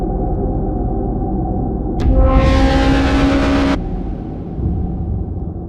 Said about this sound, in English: is the sound of a black hole.